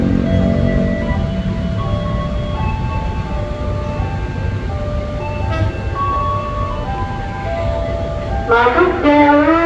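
A KRL Commuter Line JR 205 electric train rolls into track 3 at Sudimara station, a steady rumble and hum of wheels and motors with a tonal chime or horn near the end.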